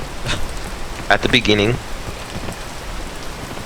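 Steady rain falls in a video game, a constant hiss of drops running throughout, with a person briefly talking over it partway through.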